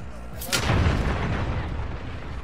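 Gunfire from a video game: one sharp, loud burst with a long booming rumble after it, and a voice is faintly present.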